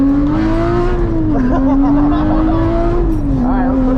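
A GT4 race car slides sideways, its engine droning steadily and shifting pitch as it is held in a drift, with tire noise throughout, loud and close.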